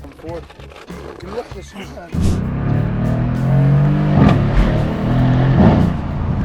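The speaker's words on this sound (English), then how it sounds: "you can't but appreciate that V8. The sound it makes while using the paddle shifters is beautiful." A Mercedes-AMG C 63 S (W205) V8 engine starts with a deep roar and keeps rumbling, revving up twice; talking is heard at the very start.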